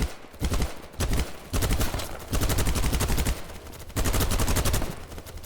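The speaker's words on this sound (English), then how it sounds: "I cannot hit shit with this SMG" SMG fire in a blocky, Battlefield-style shooter rattles out in close, loud automatic bursts, several long strings of rapid shots split by short pauses, with no talking.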